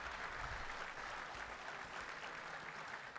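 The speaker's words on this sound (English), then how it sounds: "Oh, have a round of applause" An audience at a Warhammer Fest presentation gives a sustained round of applause, dense steady clapping that holds at an even level for several seconds with a few faint voices mixed in.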